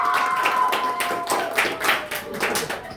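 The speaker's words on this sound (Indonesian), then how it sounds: "Tepuk tangan buat dia." A classroom of students claps for a classmate during a microteaching session, giving a few seconds of lively, uneven group applause with dense overlapping hand claps and faint background tones.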